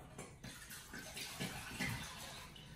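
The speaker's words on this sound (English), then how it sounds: "all we need to do there is refill it with some water" Water pours steadily into a large Trangia camping pan to make a washing-up bowl, a continuous splashing rush with small gurgles, close and moderately loud.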